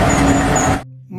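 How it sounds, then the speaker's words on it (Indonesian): A toy tow truck gives off a loud, rough engine-like rumble for under a second, then cuts off sharply into near silence. "Wow, lihat, ada mobil derek."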